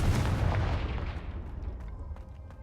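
Confringo blasting spell detonating in Hogwarts Legacy on PS5, a loud booming explosion at onset that rumbles and decays over a couple of seconds, with faint debris crackles trailing off.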